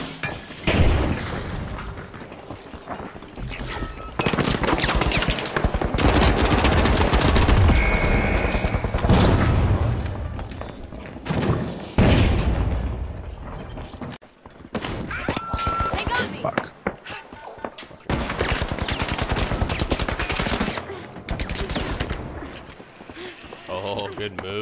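Gunfire in the video game The Finals, with dense bursts of shots, booms and mechanical clatter coming in loud waves with short gaps, while players talk over it.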